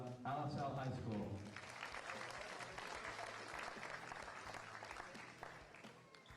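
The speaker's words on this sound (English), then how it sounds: "how about a nice round of applause for the win?" Crowd applause at an all-star high school soccer game follows a brief announcer's voice, then continues as a steady, fairly distant wash of clapping to the end.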